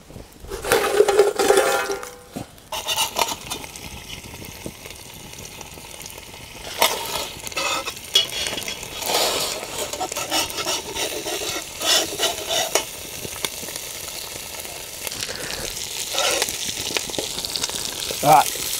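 Camp pizza fries in an uncovered pan over bottom heat, with mushroom juice in it, giving a continuous moderate sizzle and bubbling with scraping stirs and bumps throughout.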